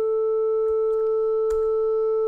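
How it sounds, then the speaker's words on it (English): A steady pure sine tone from a Web Audio API oscillator in a browser holds unchanging throughout, with faint clicks in the background. "that's us getting a nice round sine wave"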